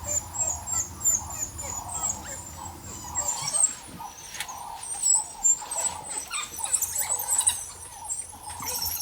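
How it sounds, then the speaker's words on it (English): Newborn African wild dog pups at a crowded den in Gorongosa park squeak, whimper and twitter in busy overlapping bursts, close and fairly loud, with rustling and faint bird calls in the background. "some newborn wild dogs emerge from a den full to bursting"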